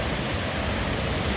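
Swollen river water after heavy rain roars in a dense, constant broadband rush, loud and close, with no pauses and no voices.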